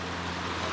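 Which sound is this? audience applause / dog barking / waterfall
waterfall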